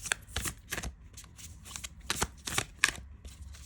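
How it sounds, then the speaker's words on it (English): An oracle card deck is shuffled by hand in a run of crisp, rapid riffles and shuffles, several bursts with short pauses between them, close and fairly quiet, with no talking. "So let's see if we can shuffle this."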